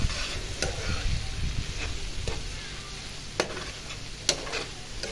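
Spices sauté in hot oil for a poa fish curry as tomato goes into the pan, giving a continuous close sizzle with scraping stirs and a few sharp clicks of the spoon against the pan.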